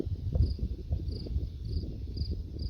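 A cricket chirps at night in a field, faint regular high-pitched pulses repeating about twice a second over low rustling and handling noise.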